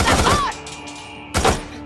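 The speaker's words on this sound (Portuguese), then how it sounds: "Vários disparos identificados." Gunfire in the video game Days Gone comes as two loud, sharp bursts of shots roughly a second apart, with a ringing tone in the quiet stretch between them.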